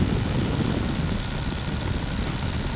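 A 1930s Tiger Moth biplane's engine drones steadily in flight, a loud, continuous broadband roar with the propeller rumble filling the whole stretch, no voices over it.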